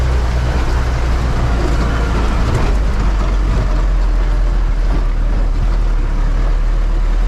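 An empty GAZ-52 truck with a T-40 engine drives along a lightly snowed road, its engine a steady, loud droning rumble with constant road noise and no break.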